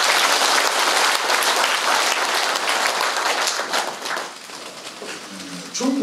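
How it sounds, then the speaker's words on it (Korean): Sustained applause from a crowd at a veterans' association 20th anniversary ceremony in Busan, dense and loud at first, then thinning and fading near the end as a voice begins. "고맙다고 박수 한번 치십시오."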